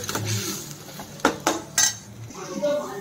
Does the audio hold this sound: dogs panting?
no